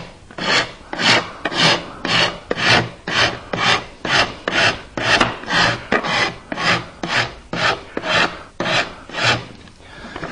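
Wood rasp rounding over the corners of a wooden knife caddy: about sixteen steady, loud, close rasping strokes in an even back-and-forth rhythm, each a coarse scraping rush, with no talking.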